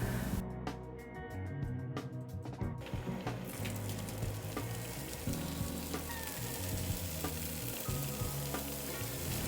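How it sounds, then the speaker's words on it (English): Food sizzles and crackles loudly in a hot pan, a dense steady frying hiss with a few brief scraping noises near the start. "you enjoy hearing that first sear of your meat or whatever it is that you're putting in your skillet"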